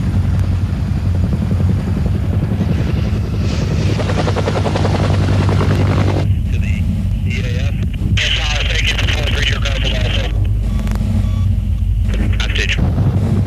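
An AH-1 Cobra attack helicopter flies with a steady, loud rotor and engine drone that persists throughout, while a narrator speaks over it.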